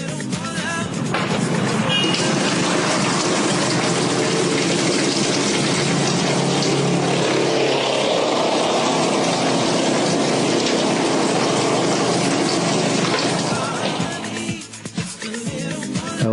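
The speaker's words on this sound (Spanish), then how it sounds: "ahora vamos a probar la bomba de desagote" A washing machine drain pump runs during a repair test, giving a steady loud whirring hum with rushing water for most of the stretch before easing near the end.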